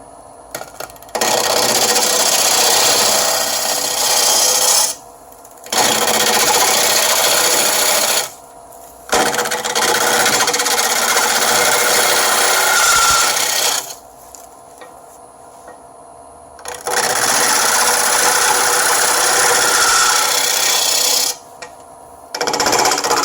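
A half-inch bowl gouge cuts a natural-edge wood bowl spinning on a lathe, giving loud, steady rasping scrapes in three long passes with short pauses between them, and no voices.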